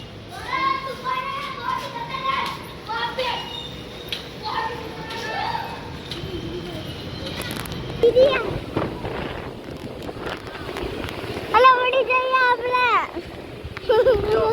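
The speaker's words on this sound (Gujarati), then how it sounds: "પવન તો હાલ જોરદાર છે" Strong, gusty wind ahead of a rainstorm buffets the microphone outdoors in a steady rough rumble, running beneath nearly continuous talk from adults and children.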